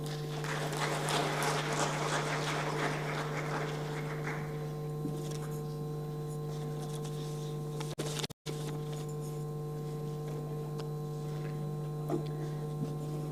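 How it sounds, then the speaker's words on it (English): Audience at an inaugural ceremony clapping in a hall, a dense patter of applause for the first few seconds that fades out over a steady electrical hum, followed by near quiet. "Let's all welcome her with a round of applause, everyone."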